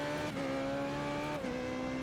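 A Formula 3.5 single-seater race car screams around a circuit, its high engine note holding steady and then dropping briefly as it shifts, loud and close with no talk over it.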